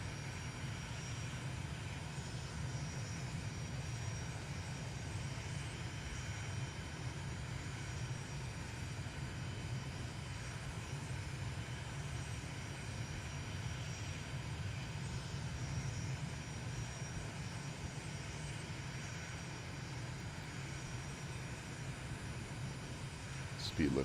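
Airliner taxiing in a flight simulator video game, a steady low engine drone and hum that holds unchanged throughout.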